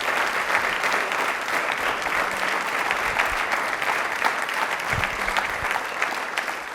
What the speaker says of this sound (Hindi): तालियां प्लीज एक बार जोरदार हो जाएं सर के लिए।